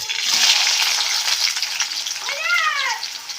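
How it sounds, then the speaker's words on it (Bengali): Onion goes into hot oil in a home kitchen, making a bright, crackling sizzle that fills the clip, while a cat meows a few times partway through. "তেল গরম হয়ে গেছে এবার পেঁয়াজ দিয়ে দেবো"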